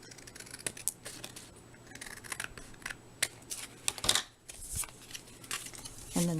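Scissors trimming cardstock for a handmade card, a run of quiet close snips and crisp cuts at an uneven pace, with faint handling noise in between.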